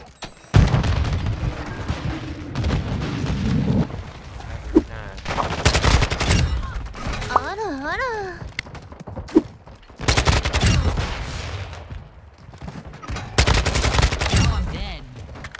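Kastov 545 rifle gunfire in a video game rattles in loud bursts and sustained volleys, with pauses between strings of shots and brief game effects mixed in.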